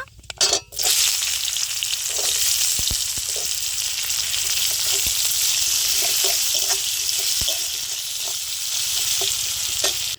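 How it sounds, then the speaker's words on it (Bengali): Chopped onions frying in hot oil in a pan, a loud continuous sizzle with occasional stirring clicks and scrapes, close up throughout. "এদিকে পেঁয়াজটা কিন্তু ভালো করে ভাজা হয়ে গেছে"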